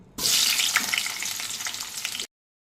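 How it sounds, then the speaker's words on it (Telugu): Loud, steady sizzling of onions frying in hot oil for tempering, a dense crackling hiss that runs continuously and then cuts off abruptly. "ఇప్పుడు తాలింపులోకి ఉల్లిగడ్డలు వేసుకుంటున్నాను."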